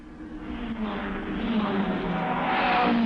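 Engines of 7-litre Ford GTs and works Ferraris roar past at the 1965 Le Mans 24 Hours, a rising and swelling racing drone that grows louder over three seconds.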